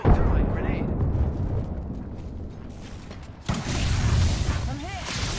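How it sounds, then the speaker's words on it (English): A thermite grenade in the battle royale game Apex Legends gives a sudden burst, then a hissing, crackling roar amid busy game noise. "Throwing thermite grenade."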